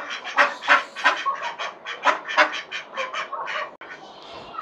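Ducks at a mini zoo quack in a rapid, uneven run of nasal calls, fairly close and with no talking.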